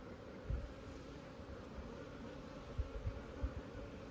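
Honeybees buzzing during a hive inspection, a steady low drone of many bees close by, with a few soft bumps and knocks from handling the hive.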